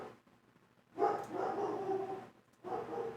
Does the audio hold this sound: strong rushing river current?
no